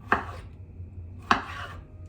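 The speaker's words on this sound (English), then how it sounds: "Next, we get our onion, chop up." An onion being chopped on a board for a rustic homemade tomato sauce, two separate knife strikes with a pause between them, close and clear.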